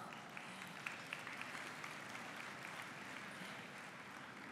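An audience at a large general assembly session applauds, a continuous, even spread of many hands clapping, faint and distant throughout.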